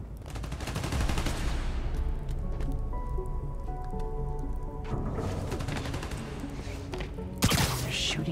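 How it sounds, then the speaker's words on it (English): Gunfire from robbers shooting at electrical transformers at a power station in Spider-Man Miles Morales, rapid cracking volleys at first, then quieter rattling with electrical hum, ending in a sharp loud burst. "They're shooting transformers?"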